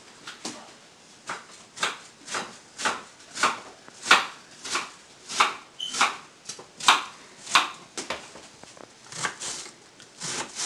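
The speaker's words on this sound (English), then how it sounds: "Once that is getting heated up, I'm going to chop my onion." Onion being chopped with a knife makes about twenty sharp, evenly spaced strikes on a board, close and fairly loud, in a steady rhythm with no talking.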